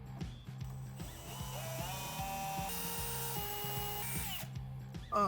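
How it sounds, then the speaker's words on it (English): A power drill with a 1/8 inch bit drills holes in a service body on a Chevy Silverado 3500, a rising, whining motor tone with rhythmic ratcheting pulses, fairly quiet and steady. "When you're drilling these out, I like to start off with an 1/8 inch drill bit"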